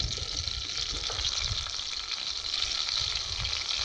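Panch phoron spices frying in oil in a kadai wok, giving a close, steady crackling sizzle over a low rumble that holds evenly from start to finish.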